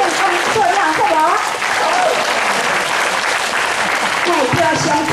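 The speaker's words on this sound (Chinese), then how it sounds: "目标上主要就是用恁的掌声来给伊鼓励。" An audience applauds at a Taiwanese opera curtain call after a performance of "三娘教子", a steady, dense wash of clapping throughout, with faint voices mixed in.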